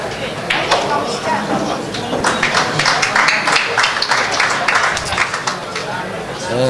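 Audience clapping in the room at a 10-ball pool match, a short patter of scattered applause under a commentator's voice.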